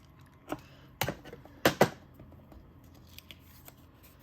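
Scissors snip ribbon ends on a handmade birthday card, with three crisp close cuts, two of them louder, followed by faint light handling sounds.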